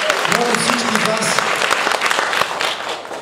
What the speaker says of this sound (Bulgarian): Моля всички вас